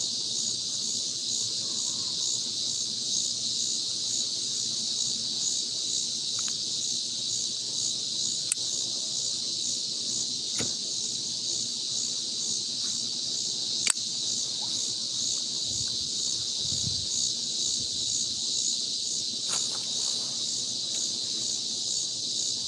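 A steady, high-pitched insect drone from cicadas fills the air continuously, constant and unbroken throughout, with a few faint clicks and low rumbles underneath.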